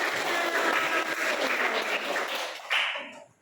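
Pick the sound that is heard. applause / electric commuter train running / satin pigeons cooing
applause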